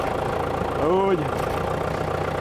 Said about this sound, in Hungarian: Öreg már a motor.